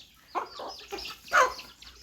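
Chickens clucking at feeding time in a rural yard, a few short close clucks and squawks over a low background hum.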